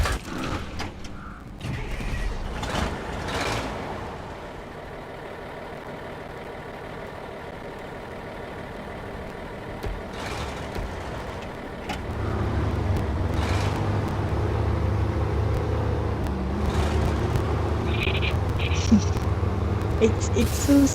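A truck engine in the video game SnowRunner rumbling with mechanical clattering and ratcheting, growing into a heavier low drone partway through, loud and continuous.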